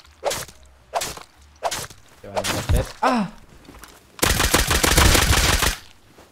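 Gunfire in a survival multiplayer game, a few separate sharp shots early on and then a loud sustained burst of rapid fire lasting about a second and a half, with whooshing sounds between them.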